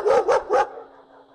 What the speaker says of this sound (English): So let's find a dog bark.